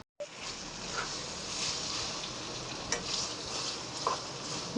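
Boiled gongura leaves being stirred into a prawn curry with onions and chillies in a pan, a steady close sizzle with occasional scraping knocks of the spoon, no talking.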